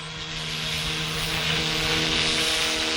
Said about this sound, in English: You have a look at the chopper.